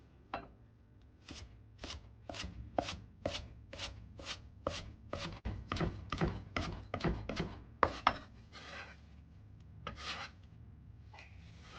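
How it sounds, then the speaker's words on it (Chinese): Green onions, first smashed, are chopped with a knife on a board: a brisk, regular series of close, crisp blade strikes, roughly three a second, that runs steadily and then thins out into a few scattered taps. "一定要先拍破，再切碎，这样熬制的时候才更好出葱的香味"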